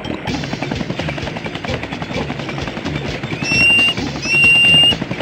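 A cartoon helicopter in the Go Diego Go video game makes a rapid, steady chopping whir throughout, loud and close, with short electronic chimes layered on top near the end.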